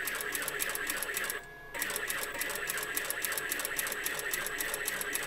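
A sewing machine stitches the neckline and front of a wrap dress, running in a steady rapid rhythm with one short pause partway through, close and fairly quiet.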